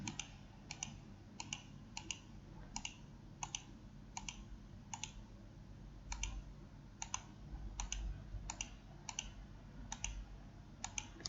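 Mouse clicks and keyboard presses while beam members in a frame are selected with Ctrl held, a dozen or so sharp, faint clicks in irregular rhythm over a low steady room hum, no talking.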